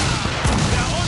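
Ship cannons firing in Assassin's Creed 4 Black Flag, a dense, rumbling burst of booming blasts in a short, loud moment, with voices shouting amid the barrage.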